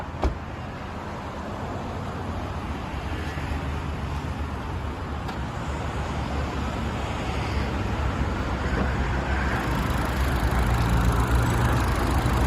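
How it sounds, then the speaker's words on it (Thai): A 2008 Honda Jazz with an automatic gearbox idles at a steady, even hum from close by. The drone is unbroken, with no voices over it. "สตาร์ทเครื่องได้เลยนะครับผมจะได้ฟังเสียงเครื่องนะครับ"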